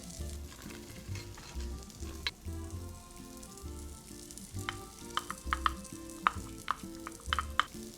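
Finely chopped celery stalks sizzle in a pan for mirepoix, a steady close frying hiss broken by sharp spatula scrapes and taps that grow busier toward the end; no one talks.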